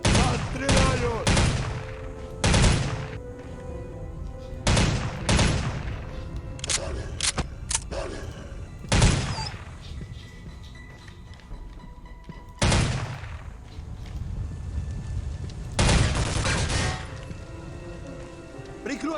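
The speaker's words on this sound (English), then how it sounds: "Нас стреляют!" Gunfire from the video game Soldier of Fortune 2 in a Kamchatka level: repeated loud bursts and single shots, close and sharp, spaced irregularly over a steady background rumble with no talk.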